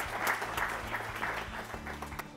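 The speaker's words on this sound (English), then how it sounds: "So let's clap for them, please." Quiz competition spectators clap for the teams at the end of a national school quiz, a soft, fairly distant patter of applause over a low steady hum.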